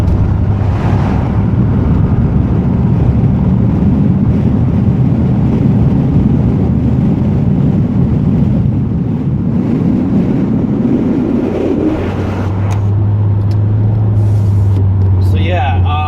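Steady engine drone from inside a car accelerating at full throttle with its resonator removed, a low rumble that builds and shifts in tone, with wind and road noise throughout.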